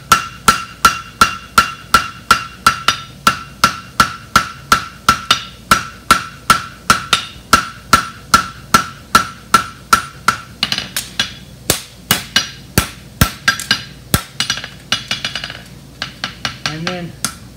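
A hammer strikes a hot horseshoe on an anvil to tighten it around the clip, with a long run of rapid, evenly spaced ringing blows up close that turn into looser, scattered taps near the end.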